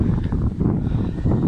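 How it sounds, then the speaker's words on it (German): Outdoor wind blows straight into the microphone, making a close, low, fluttering rumble that rises and falls in short gusts. "ist nur Wind."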